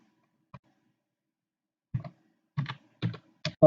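Keys tapped on a computer keyboard while entering text in PowerPoint: one isolated press, a pause, then a quick run of crisp close clicks in small bursts, with no voices.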